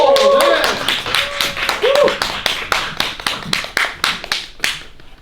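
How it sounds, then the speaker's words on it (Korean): A lecture audience's applause builds and then breaks into scattered, rhythmic clapping that fades, with a brief musical tone at the start. "여러분 큰 박수로 맞이해 주십시오"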